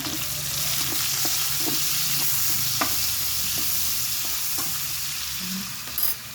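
A ricado spice mix browns in a pan for halang-halang chicken, with a steady soft sizzle and a few scattered light scrapes and taps of stirring, close and moderately quiet.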